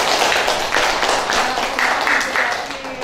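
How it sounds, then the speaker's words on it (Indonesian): Students in a classroom chemistry lesson applaud, a loud dense patter of clapping that keeps going for a few seconds and then eases slightly, with faint voices mixed in. "beri tepuk tangan"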